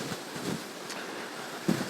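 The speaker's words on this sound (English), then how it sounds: "So yeah, that really is windy now, isn't it?" Steady wind buffets the microphone outdoors in the Fens, a continuous rushing roar with a few louder gusts and thumps, no voices.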